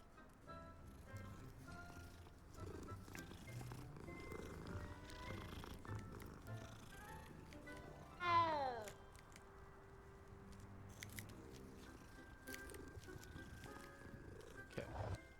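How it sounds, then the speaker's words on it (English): A cat in the Hogwarts Legacy video game gives a soft, low purr, with a brief rising meow near the middle, amid quiet game sounds and faint background music. "Let's say hi to the cat."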